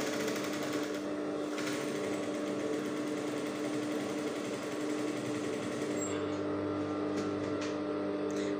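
Close, steady whir of a sewing machine stitching fabric with decorative trim, a continuous rapid mechanical drone that holds for several seconds with a brief shift in tone near the end.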